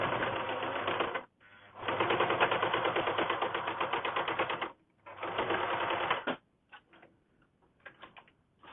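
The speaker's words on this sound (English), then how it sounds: "I'm just going on the sewing machine" A sewing machine stitches fabric in fast, even runs of rapid mechanical ticking, two long bursts separated by short pauses, then a few brief stops and starts. It sounds close and fairly loud, with no talking.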